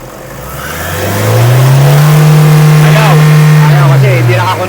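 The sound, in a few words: car engine revving as accelerator pedal is pressed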